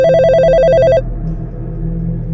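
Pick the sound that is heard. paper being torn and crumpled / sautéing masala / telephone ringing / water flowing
telephone ringing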